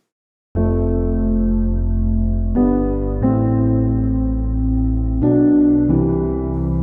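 Sustained piano chords layered with smooth sine tones from FL Studio, changing every second or so in a slow progression, without percussion or voices.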